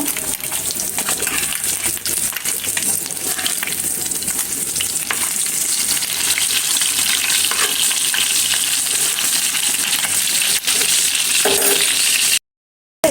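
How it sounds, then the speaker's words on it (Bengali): Fish fry in hot oil in a pan with a loud, dense, steady sizzle up close, broken by a few light utensil clinks and stirring scrapes. "এই মাছগুলো লাল লাল করে ভাজা হয়ে গিয়েছে"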